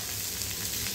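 Onion and carrot frying in a pan for a tofu curry, a brief dense steady sizzle with no voices.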